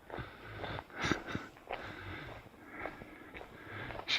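Dog taking big repeated sniffs while smelling around outdoors among pine trees, rapid close-miked snuffles in short bursts with faint background noise and no talk.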